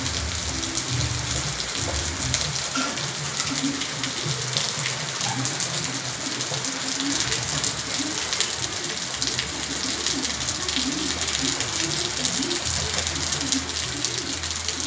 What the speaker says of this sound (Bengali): দেখো তো কত জোর জোর বৃষ্টি পড়ছে